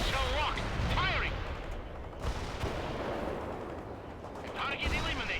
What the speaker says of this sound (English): Missile locked. Fire.